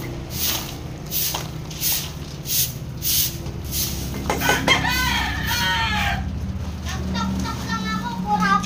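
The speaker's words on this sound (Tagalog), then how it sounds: "Kuraok ng kuraok yung manok." A rooster crows loudly nearby among clucking chickens at a home yard, with the crow rising mid-scene over a background of children and people talking.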